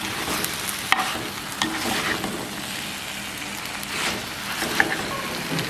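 Squid and chillies sizzle and fry in a hot pan while being stirred, a steady close crackle broken by a few sharp scrapes and clacks of the utensil.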